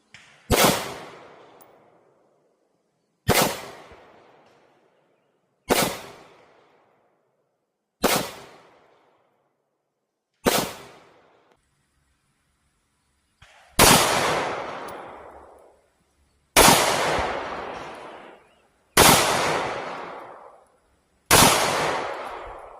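Eight loud gunshots from a Smith & Wesson M&P 45 Shield .45 pistol firing cast lead flat nose rounds at a range, spaced a few seconds apart, each a sharp crack with a decaying tail; the later shots sound louder and fuller.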